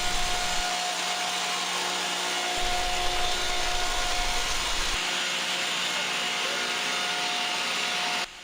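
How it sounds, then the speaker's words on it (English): High-speed routers mill continuous grooves along the edges of LVL billets in a factory, giving a dense, loud, unbroken machine roar that holds steady throughout. "After cooling, the LVL billets pass through high-speed routers to mill continuous precision"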